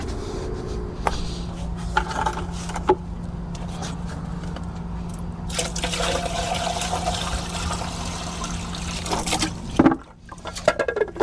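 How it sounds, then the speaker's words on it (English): A pool pump being primed with water after cracked fittings were repaired runs with a steady motor hum under rushing, gurgling water for several seconds, ending in a brief clunk and a drop in level. "I'm gonna prime the pump."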